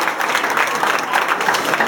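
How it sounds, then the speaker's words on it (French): A live audience claps steadily after a martial arts demonstration, a dense, even patter of many hands throughout. "On va applaudir effectivement cette démonstration de Bao."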